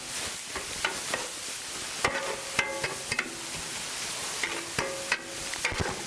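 Food being stirred in a Camp Chef number 12 skillet, with a metal utensil scraping and clinking against the pan in irregular strokes over a steady sizzle of frying.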